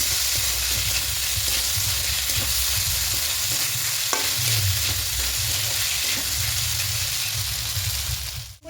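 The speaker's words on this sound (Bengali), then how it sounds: "খুব ভালো করে একটু 2-3 মিনিট ভেজে নেবো। এটা একটু শুকনো শুকনো করে নেবো।" Broken wheat is dry-frying in a pan for a dalia pulao, making a continuous loud rustling sizzle with intermittent stirring scrapes, close up and without speech, until it cuts off abruptly at the end.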